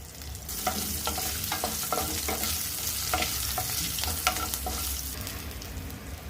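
Shallots, curry leaves and garlic fry in a pan for tamarind curry, a steady close sizzle broken by repeated scraping stirs of a spoon against the pan, with no voices.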